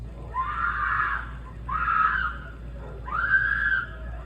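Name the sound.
screams caught on a doorbell camera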